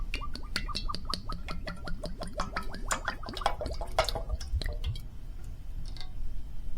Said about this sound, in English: I'm going to take that and I'm going to pour it into my little pan.